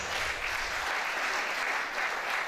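Round of applause for a guest lecturer at a polytechnic staff association capacity building workshop, a brief steady wash of many hands clapping at moderate, somewhat distant level.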